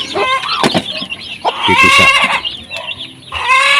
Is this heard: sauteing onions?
no